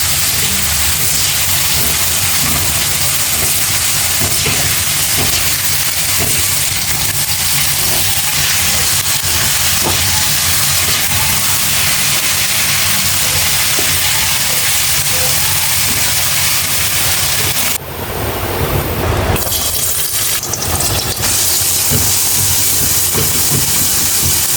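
Tomatoes cooking in a pan for menudo Imus: a loud, steady broadband hiss of frying that holds for the whole stretch, close and without talk, with a brief change in texture near the end.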